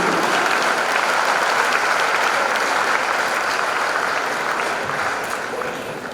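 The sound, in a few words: audience applause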